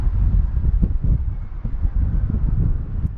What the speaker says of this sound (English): Listen to that wind. Wailing through.